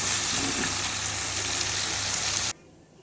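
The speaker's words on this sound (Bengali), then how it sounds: "এবার আমি ওই তেলেই আলুগুলো দিয়ে দিলাম, দিয়ে নুন হলুদ দিয়ে দিলাম" Potatoes fry in hot oil with salt and turmeric, producing a steady, dense sizzle that stays loud and even before cutting off abruptly near the end.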